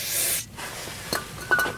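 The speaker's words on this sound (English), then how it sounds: "you always want to spray your carb cleaner into a paper towel" Carb cleaner is sprayed onto a paper towel during a Corvair valve cover gasket job: a loud hissing aerosol burst opens the clip, followed by a quieter stretch with a few soft rubbing and clinking sounds.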